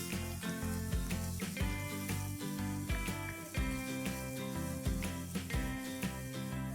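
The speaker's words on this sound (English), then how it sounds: "I'm going to add 1 onion that is finely chopped and I'm going to fry this till it's nice and" Finely chopped onion sizzles steadily in hot oil for a spicy chicken curry, a continuous frying hiss mostly buried under loud rhythmic background music.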